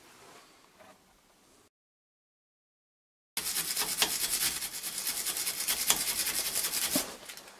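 Brisk rubbing and scraping at a rusted, seized cardan nut, a dense rasping texture that starts after a brief silence and continues steadily and close up, preceded by faint light scratching.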